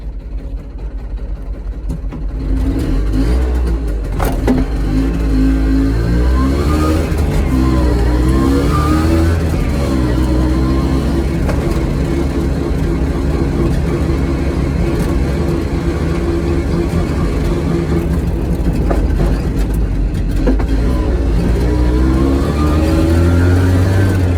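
A Piaggio Ape 50 three-wheeler, loaded with waste paper, starts off and drives away. Its small engine gives a loud, steady, buzzing drone close by that rises briefly as it pulls off, with no talking.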